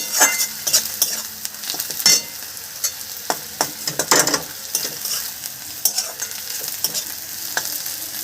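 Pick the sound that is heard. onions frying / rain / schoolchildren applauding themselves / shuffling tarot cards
onions frying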